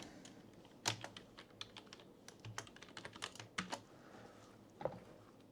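Keys tapped on a computer keyboard while entering a password, a quiet, irregular run of close clicks with a few louder strikes and short pauses, no voices.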